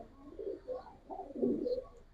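Soft, low coos from Giribaz pigeons rise and fall in a few uneven bursts, close by, with faint higher chirps in the background.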